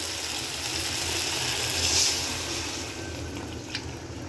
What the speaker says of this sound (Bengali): এখন আমি আরেক বাটি ঝোল দিয়ে দিব